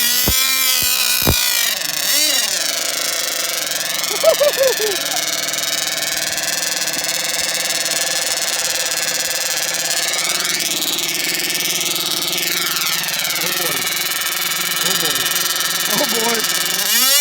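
Proboat Thunder Cat .32 nitro RC boat engine at its first start, a high, buzzing two-stroke whine held steady with rising and falling revs, close and loud, while people talk over it.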